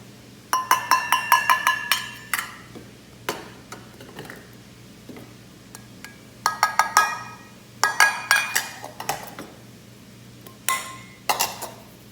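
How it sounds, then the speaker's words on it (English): A spoon stirs dry spices together in a small glass bowl for a moussaka spice blend, giving close, bright rapid clinks and taps in several quick bursts separated by short pauses. "So we could actually just stir them all together right now."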